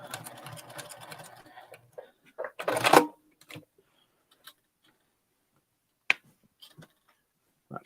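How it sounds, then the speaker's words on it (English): Sewing machine stitching quilt binding toward the corner, a dense rapid whir in the opening seconds, then a short loud burst near the middle, followed by mostly quiet with a few isolated clicks and taps. "Then we're going to lift our presser foot, pivot everything, and then sew from where your needle is"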